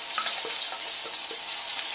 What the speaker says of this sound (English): I'm going to just fry it for a couple of, maybe 30 seconds,